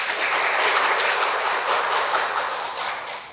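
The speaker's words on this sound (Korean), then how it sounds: "헌법재판관님께 다시 한번 큰 박수 부탁드립니다." A lecture audience applauds a former Constitutional Court justice at the close of a citizens' college talk in Seogwipo, giving a steady, dense wash of clapping that holds throughout and fades slightly at the end, with no voices.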